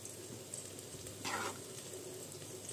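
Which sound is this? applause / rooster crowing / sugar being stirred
sugar being stirred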